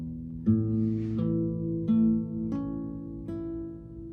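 An acoustic guitar chord is played clean, with every string ringing clear. Several plucked and strummed attacks sound close and alone, each note sustaining and then fading.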